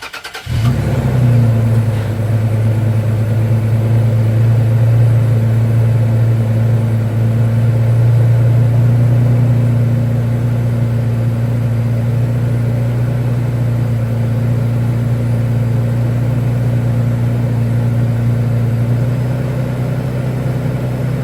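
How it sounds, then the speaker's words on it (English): A truck engine starts and then idles steadily, a loud, constant low rumble that runs without a break for about twenty seconds, with no talking over it. "I'm gonna turn the truck on"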